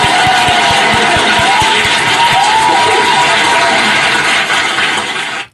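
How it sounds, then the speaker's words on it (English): Loud, steady crowd noise with cheering and a broad hiss of applause, a few sharp low thumps early on, cutting off abruptly at the end. "let's give them a round of applause, man"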